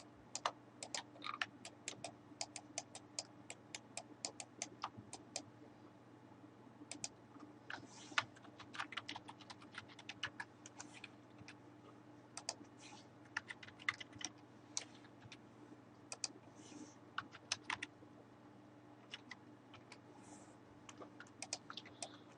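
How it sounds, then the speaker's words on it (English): Rapid, irregular keystrokes on a computer keyboard, crisp close clicks in bursts with short pauses, over a low steady hum. "Press enter on the keyboard."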